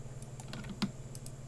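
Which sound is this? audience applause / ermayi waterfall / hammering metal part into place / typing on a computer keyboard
typing on a computer keyboard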